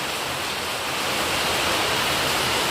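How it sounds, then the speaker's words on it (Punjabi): Heavy first monsoon rain of the season pouring down in a village near Malaud, Ludhiana district, a dense, loud, unbroken roar of rainfall with no voices. "ਪਹਿਲਾ ਸੌਣ ਦਾ ਮੀਂਹ ਪੈ ਰਿਹਾ ਹੈ"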